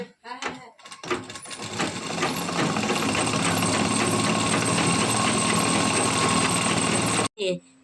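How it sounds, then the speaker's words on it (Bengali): Sewing machine stitching a housecoat, running in a fast steady mechanical rattle for several seconds after a few brief starts, then stopping abruptly near the end. "তিনটে পার্ট যেরকম সায়ার মতন সেরকম সেলাই হয়ে গেল।"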